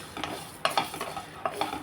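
Dry spices and sesame scraped and stirred around a hot pan without oil, with a faint sizzle and a few sharper clinks of the spoon against the metal.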